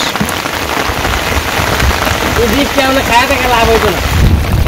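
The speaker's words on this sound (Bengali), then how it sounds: "বৃষ্টি কমতেছে না, ভিজে শেষ।" Heavy rain pours down in a dense, steady hiss during the rainy season in a Bangladeshi village, with a voice speaking briefly over the downpour.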